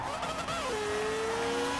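A rotary-powered Nissan Pulsar races in Forza Horizon 4, its engine note holding a loud sustained whine that dips in pitch as it eases through a corner, with tire noise underneath.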